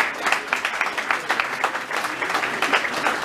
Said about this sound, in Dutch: Maar die charmante mensen, Yves en Nathalie, geef ze graag een davend applaus